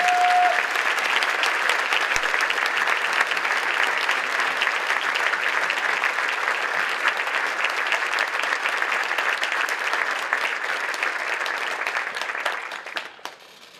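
A luncheon audience applauds Matt Meyer and Juanita Dornan, the 2018 Volunteers of the Year, with dense, sustained clapping from many hands that holds steady for over ten seconds before fading at the end.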